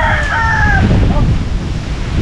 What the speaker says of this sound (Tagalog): Yung mga alaga kong manok.